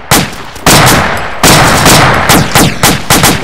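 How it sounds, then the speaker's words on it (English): Gunfire in a battle at Ia Drang: loud, close bursts of shots, a long rattle followed by several shorter cracks in quick succession, each ringing out briefly. "Careful, I think they're shooting."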